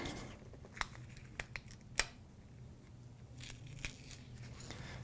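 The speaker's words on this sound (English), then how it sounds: "We'll remove just the transfer tape, leaving the vinyl there." Transfer tape peeled off vinyl in a crafting setup, with quiet crackling pulls and a few small sharp ticks over faint background noise.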